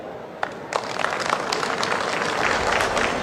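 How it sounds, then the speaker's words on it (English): An audience at a Kuppam foundation-stone ceremony led by Chief Minister Chandrababu applauds, with scattered claps swelling into dense, sustained clapping from a sizable crowd. "give him a big round of applause, dear ladies and gentlemen"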